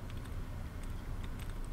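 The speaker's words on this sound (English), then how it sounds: "I do like the clicking sound though" Quiet, rapid clicking and tapping from a hacking terminal in Fallout 3, with light key-like ticks scattered irregularly over a soft low background hum.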